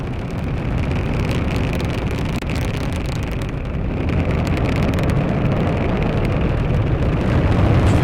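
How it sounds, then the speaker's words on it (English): A SpaceX Falcon 9 rocket launching, a loud, continuous broadband roar that holds steady and swells slightly over several seconds, with wind-like rumble and no talk. "The Falcon 9 has cleared the tower."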